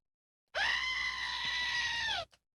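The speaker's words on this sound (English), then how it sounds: "I got the new goat scream button" A sound-effect button plays a goat scream: one loud, strained bleating cry held for nearly two seconds, then a tiny blip and silence.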